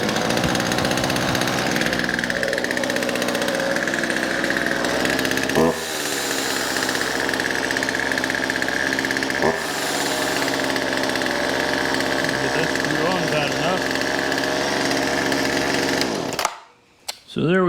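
A Poulan chainsaw that would not start after storage runs steadily at a loud, close idle throughout, with a couple of brief revs, then cuts off abruptly near the end.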